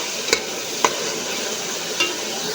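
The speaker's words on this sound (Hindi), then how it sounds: "इसको अच्छे से फ्राई करना है" Masala fries in a pan with a steady close hiss, broken by three soft taps of a spatula stirring against the pan.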